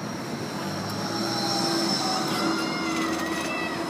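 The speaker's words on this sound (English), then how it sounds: "and there's a tram arriving" A Gold Coast G:link tram rolls in with a steady rumble and thin electric whines rising and fading, heard from the platform.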